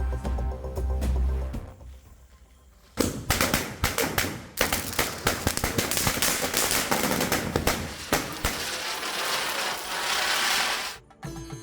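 Firecrackers bursting for a Vishu celebration in Kerala, a rapid crackling string of loud pops and bangs after a brief quiet lull, continuing densely for several seconds with a few sharper reports.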